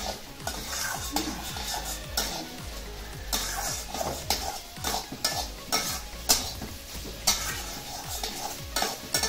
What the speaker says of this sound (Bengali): সুজিটা দেবো আমি বাইন্ডিংয়ের জন্য, যেহেতু এটা লাড্ডু হবে তো আমি বাইন্ডিংয়ের জন্য সুজিটা দিয়ে আমি নাড়তে থাকবো